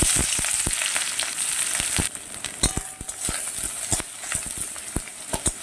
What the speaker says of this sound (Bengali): পেঁয়াজটা আমি বেশ ভালো করে ভেজে নেব